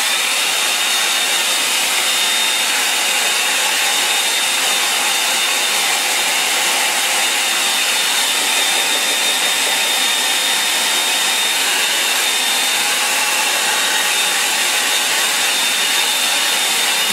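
A hair dryer blows steadily and loudly at close range over a drying painting, a continuous even whoosh with a faint high whine that runs unbroken for the whole stretch.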